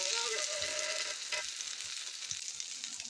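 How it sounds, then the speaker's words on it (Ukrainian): Burger patties sizzle steadily in a frying pan, a close, even hiss of hot oil with small crackles and pops and no talking. "Вони отак підсмажаться, зараз я їх переверну."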